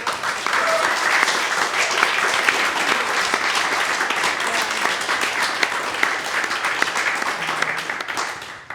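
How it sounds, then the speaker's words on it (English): An audience at an artist talk and Braille reading applauds steadily throughout, a dense, sustained round of clapping from many people that holds at an even level before tapering slightly at the end. "So can we give a round of applause to Teresa?"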